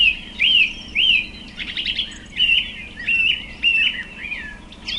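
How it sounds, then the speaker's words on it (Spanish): A bird sings a clear, repeated chirping phrase about once a second, loud and close over a faint hiss of background, with no voices. "Su canto, muy suave y deleitoso, sobrepujaba al del coyoltótotl y del siniscán, y de otros pájaros lindos que cantan."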